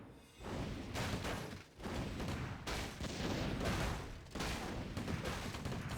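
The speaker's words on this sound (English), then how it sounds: "Three mortar teams." Mortar teams fire in Warcraft III, heavy booming blasts and rumbling impacts rolling almost continuously in dense, overlapping bursts of loud battle noise.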